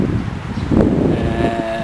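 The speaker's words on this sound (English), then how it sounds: "It's a little windy today, so maybe you still hear some noise from the wind" Gusty wind rumbles low against the microphone, a dull steady buffeting that swells briefly in the middle, with no voices.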